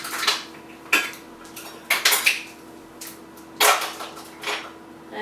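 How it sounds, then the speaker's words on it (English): Metal utensils clatter and clink in quick bursts while someone rummages for a measuring spoon in a kitchen during cole slaw prep, several sharp rattles separated by short pauses. "So let me find another measuring spoon here."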